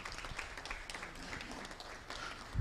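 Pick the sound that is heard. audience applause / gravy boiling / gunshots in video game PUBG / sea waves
audience applause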